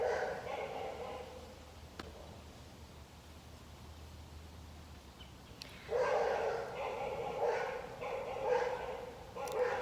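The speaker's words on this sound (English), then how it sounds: "Neighbors' dogs." Neighbors' dogs barking outdoors, with a cluster of yapping barks arriving in the second half over a steady background hiss, moderately distant and fairly loud.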